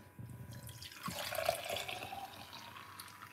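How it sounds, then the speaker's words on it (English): A mixed drink is poured into a glass, giving a faint liquid trickle and splash that rises in the middle and then eases off. "then pour it into a glass like this"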